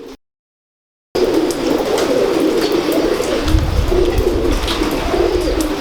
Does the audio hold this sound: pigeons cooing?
yes